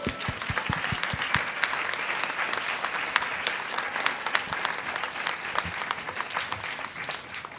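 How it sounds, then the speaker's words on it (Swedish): Audience applause at a panel discussion event, a steady wash of clapping with a few sharper individual claps near the start, moderately distant and without speech over it. "Kom igen, en högre applåd."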